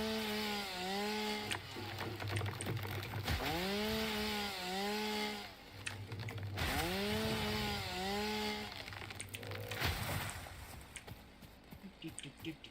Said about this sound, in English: doing a little bit of sawing preemptively.